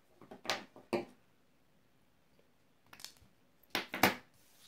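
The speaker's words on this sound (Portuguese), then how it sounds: "Eu vou cortar uma das pontas." Scissors snip the end of a nylon stocking in a quiet room, a few crisp close cuts in two short bursts separated by a silent pause.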